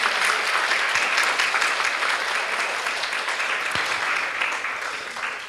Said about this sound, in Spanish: Denle un aplauso al Señor por eso.